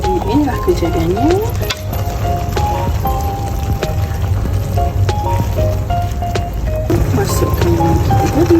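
Fried noodles with oyster sauce and egg stirred in a pan, a steady sizzle and scraping of the spatula running throughout, with music playing over it.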